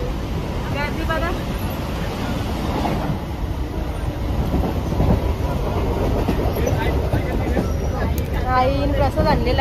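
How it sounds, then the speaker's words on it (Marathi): A crowded local train leaving Dombivli station rumbles and clatters on the tracks, a steady loud rolling din with a babble of passengers and voices on board. "आता आम्ही बसलो ट्रेनमध्ये"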